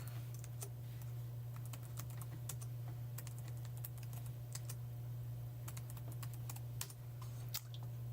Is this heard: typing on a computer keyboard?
yes